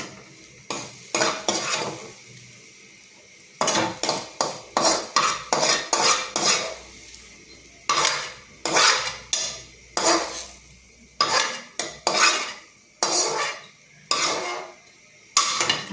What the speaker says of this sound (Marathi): मिनटं याच्यावर भाजायचं गॅस थोडा कमी करायचा